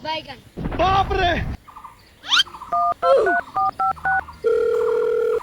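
A telephone keypad being dialed: a quick series of short, clear beeping tones ends in one longer held tone, coming after a brief burst of voice and a rising squeal.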